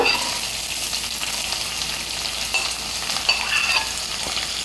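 Onion and ginger sautéed with chana dal in a hot pan for semiya upma, a loud, close, continuous sizzle with stirring scrapes throughout.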